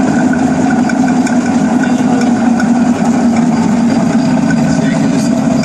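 A Shaffner lathe motor runs steadily, a constant mid-pitched hum with a whining tone, loud and unbroken throughout.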